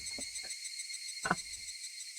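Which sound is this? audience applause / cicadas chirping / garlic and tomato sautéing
cicadas chirping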